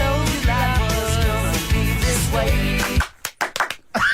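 Hands clap along to the Friends theme song, the band music loud and steady before cutting out, then a few sharp, uneven claps sound alone near the end.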